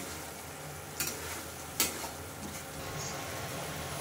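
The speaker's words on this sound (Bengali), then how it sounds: "মশলাটা আমি ভালো করে কষে নেব।" Spice paste with Kashmiri chili powder sautéing in a pan, a steady soft sizzle with two sharp scraping stirs of a spoon, no voices.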